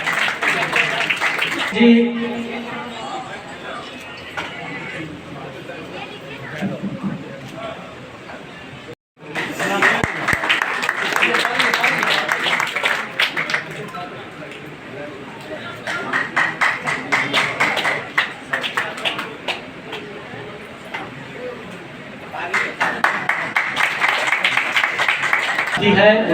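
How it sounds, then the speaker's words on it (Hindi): An audience at an anniversary and honors ceremony breaks into several waves of clapping, with spoken announcements over a microphone coming between and over the applause. "तब आप लोग ताली बजाते रहिए"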